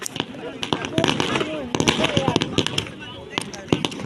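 Firecrackers go off at the opening of a football match, sharp cracks and pops in rapid, irregular bursts that sound loud and close, with people talking and general crowd noise underneath.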